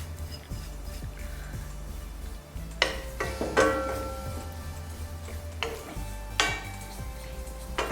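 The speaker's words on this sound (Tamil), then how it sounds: "தேங்காய் கொஞ்சம் ஒரு பொன்னிறமாக ஆகுது வரை வறுக்கணும்" Grated coconut dry-roasted in a pan for rice laddu, with a spoon scraping and clinking against the metal in a few distinct bursts over a low, steady background; no one speaks.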